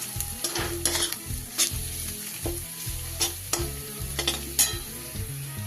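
Ground spices fry with cabbage in a pan, a steady sizzle broken by repeated scraping stirs close up.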